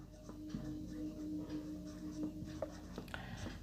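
Pen or chalk writing by hand during a maths lesson, faint scratchy strokes and small taps over a quiet room hum, close but soft.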